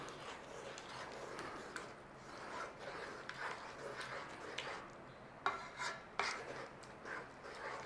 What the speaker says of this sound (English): Give that a stir through.